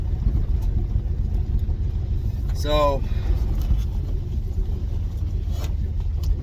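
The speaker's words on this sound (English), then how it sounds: "Decided I'm going to drive down some trails with my limited gas that I have in my truck." A truck engine driving on dirt trails, a steady low rumble throughout with a brief spoken word over it partway through.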